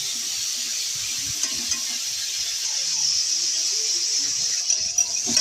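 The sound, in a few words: prawns frying in oil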